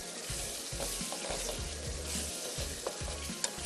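White prawns with spices sizzle in a karahi with a dense, constant frying hiss, while a spoon stirs in quick repeated scrapes and knocks against the metal, close and steady, with no voices.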